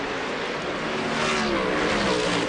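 Indy Pro Series race cars from 2006 at the St. Petersburg street circuit, during the first race of a doubleheader weekend, roar continuously and loudly, their engines droning and revving close by with no voices.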